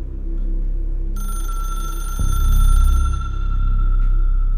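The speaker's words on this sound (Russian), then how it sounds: "Это он, это Трэнч звонит." A telephone rings with an incoming call, a steady electronic tone that starts partway in and holds over a low rumble and background music, fairly loud and continuous for several seconds.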